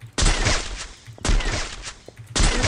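Three loud, sharp gunshot bursts in Free Fire ring out at roughly one-second intervals, each with a brief echoing tail, close and punchy.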